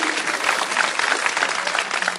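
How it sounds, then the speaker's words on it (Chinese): Audience applause at a Cantonese stand-up comedy show streamed live, a dense, steady burst of clapping from a crowd, loud and continuous, with no speech over it. "掌声鼓励！"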